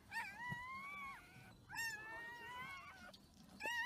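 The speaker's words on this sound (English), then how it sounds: "Belle, you had 3 puppies, Belle." Newborn puppies whining in high, drawn-out, wavering cries, three separate bursts close by with short pauses between them.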